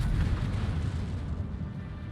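Naval gunfire lands on a battleship in World of Warships, here the Tier 8 Pan American Atlantico, as a deep, continuous rumbling roar of heavy shell impacts with no voices.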